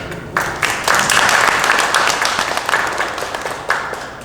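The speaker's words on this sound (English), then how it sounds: "let's clap for that." Audience clapping at a youth state address event, a loud burst of applause that swells quickly and stays full before thinning slightly, with a few sharper individual claps standing out near the end.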